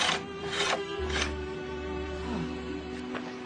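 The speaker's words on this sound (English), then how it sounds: "Well, do some finishing work on these dolls. Need the scraper." A scraper doing finishing work on wooden dolls, producing a few short rasping strokes against the wood over a low steady hum, close and moderately loud.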